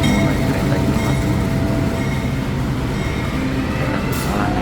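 A passenger train on the line toward Rangkasbitung rumbles steadily, a continuous low rolling drone with a faint brief squeal near the end, heard from inside the carriage.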